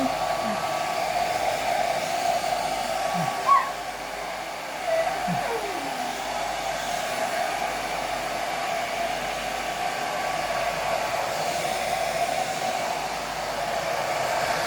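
A hair dryer blows steadily and close for the whole stretch, drying a young boy's freshly cut, washed hair at home, with a couple of faint bumps along the way.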